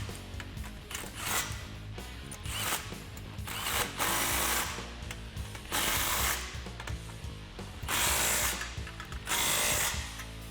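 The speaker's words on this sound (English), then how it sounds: "tighten these down with a 15 socket" A ratchet fitted with a 15 mm socket tightens the exhaust clamps on the X-pipe of a 2018-2020 Mustang GT Borla cat-back system, giving repeated bursts of close, rapid clicking with short pauses between strokes.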